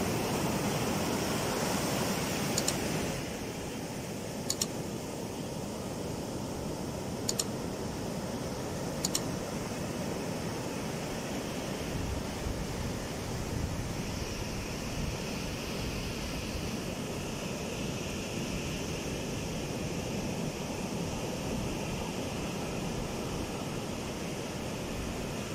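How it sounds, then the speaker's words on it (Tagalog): Ocean waves wash onto a sandy beach at Gubat, Sorsogon, in a continuous, even surf roar that holds steady throughout. A few faint high clicks sound early on. "pakinggan ang himig at musika na likha ng alon"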